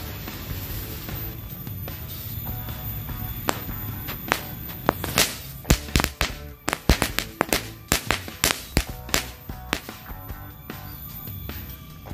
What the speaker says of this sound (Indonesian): Yang pertama kita cobain mercon korek mini stick 3 kali bang.